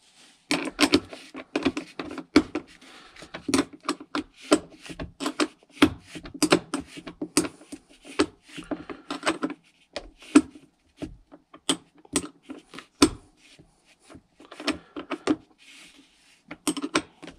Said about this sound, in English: I'm doing up a bolt